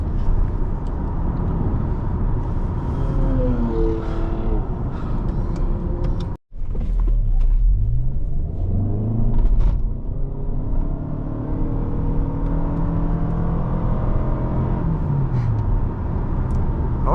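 A 2025 Toyota Camry XLE accelerating, a steady low engine hum with rising tonal whine as speed builds, heard from inside the cabin with a brief dropout partway through.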